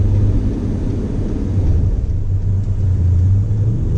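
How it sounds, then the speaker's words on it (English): A Raptor-engined 2019 Ford F-150 Limited pickup accelerating hard to merge onto a highway, heard from inside as a steady, loud low engine drone and road rumble that holds on without a break. "On the loud pedal, time to merge onto a highway, not an issue in this Raptor powered F-150 Limited."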